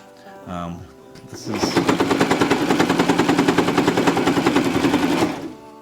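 A sewing machine straining as it stitches through thick layers of karate uniform cloth while trim is attached, a fast loud mechanical rattle running steadily for several seconds after a brief voice.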